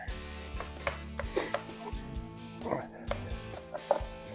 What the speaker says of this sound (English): Pat it in, rub it in, do what you gotta do here.